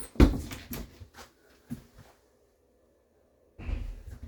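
A door in the bunkroom of a 2019 Grand Design Reflection 367BHS RV is handled, giving several close wooden knocks and clicks, then a pause of near silence before another thudding closing sound.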